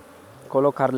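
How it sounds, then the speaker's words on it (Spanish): Honey bees buzz around an open beehive during a colony inspection, a steady swarm drone that swells loud and close in the second half, with two strong surges of buzzing. "en el momento que nosotros llegamos tenían ya una barba de abejas en esta zona"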